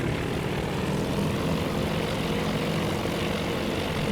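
Propeller engines of carrier strike planes in a carrier combat game drone steadily and loudly, a dense unbroken roar with no pauses.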